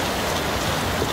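Heavy rain pours in a Hindi film scene, a dense, loud and constant hiss of downpour filling the whole moment without any break or voice.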